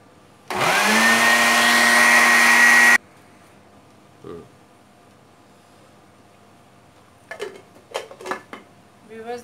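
A kitchen blender or grinder whirs loudly for about two and a half seconds, grinding bread into crumbs for gulab jamun, then cuts off, followed by a soft knock and a few faint clinks and rattles.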